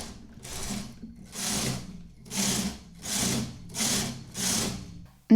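A knitting machine carriage pushed back and forth to knit rows of lace, six evenly spaced swishing, whirring passes with short quiet gaps between them, close and clear.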